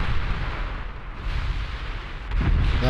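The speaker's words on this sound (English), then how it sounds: "secondaries are blazing away" Warship secondary guns fire in a naval battle in the game Ultimate Admiral Dreadnoughts, a dense, continuous rumble of overlapping booms with a heavier burst near the end and no talking.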